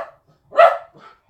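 A pet dog gives a single loud, close bark, with a fainter yip trailing after it in an otherwise quiet space.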